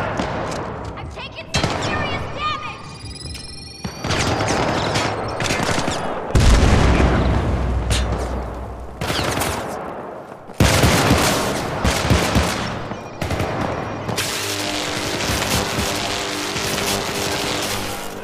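Gunfire in the co-op shooter Syndicate: bursts of automatic fire and heavy booming blasts come in loud, dense waves, broken by brief pauses, with a voice heard faintly between shots.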